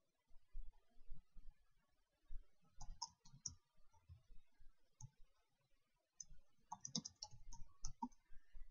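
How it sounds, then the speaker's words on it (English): Quiet, irregular clicking of keys on a computer keyboard in short bursts, close and faint, with no voices. "click the title box and just start typing"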